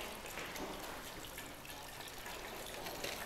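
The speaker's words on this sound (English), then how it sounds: "You can pour this whole thing in there. So 2 cups of vegetable broth" Two cups of vegetable broth are poured into a cooking pot for an oil-free dish, giving a soft, continuous watery rush with no breaks for the whole stretch.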